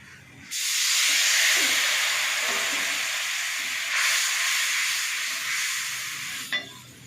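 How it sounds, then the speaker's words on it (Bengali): Water splashes into a hot cooking pan with spices, bursting into a loud, steady hissing sizzle that fills several seconds, briefly swells, then fades at the end with a small clink. "আমি এবার একটু জল দিয়ে দেবো।"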